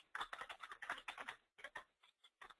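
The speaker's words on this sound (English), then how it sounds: "I'm typing on the fly in a demo" Quick bursts of typing on a computer keyboard, close and crisp clattering keystrokes in fast runs with short pauses between them.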